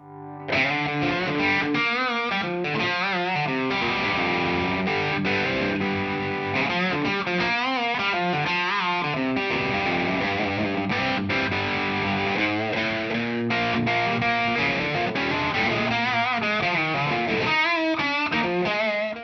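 A heavily distorted electric guitar plays chunky riffs and chords through a Friedman Small Box amp, continuous and loud, with no talking.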